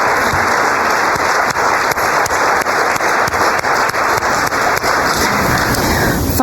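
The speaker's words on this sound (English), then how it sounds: "Please join me in a round of applause for our faculty, for our Support Staff Award winners." Applause from an audience honoring support staff award winners at a centenary celebration: a thick, rain-like roar of many hands, loud and unbroken from start to finish.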